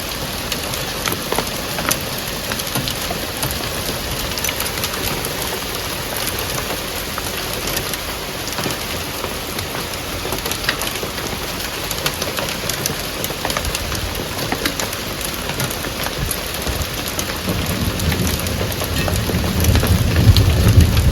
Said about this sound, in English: As forecasted, it rained all day, all night, and into the wee hours of the morning.